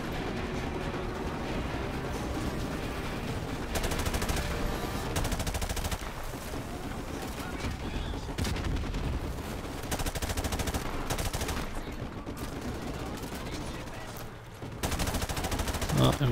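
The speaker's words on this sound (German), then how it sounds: "Von rechts beschossen noch." Sustained automatic gunfire in Call of Duty Modern Warfare Remastered, dense rapid bursts of shots and battle noise filling the whole stretch with barely a break.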